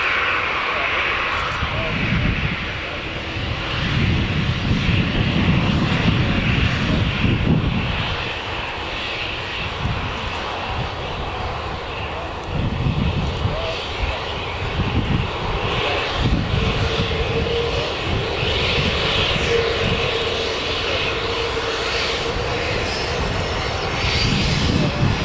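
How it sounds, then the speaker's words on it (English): A Jet2 airliner taxis at Newcastle Airport, its engines a continuous rumbling whine that swells and eases in low surges, moderately distant, with a voice talking over it. "And then we've got a Jet2 as well. That's just taxiing to its gate"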